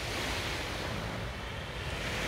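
Sea waves wash onto the shore at Odesa in a steady, broad roar of surf, with some wind buffeting, continuous and fairly close, with no voices.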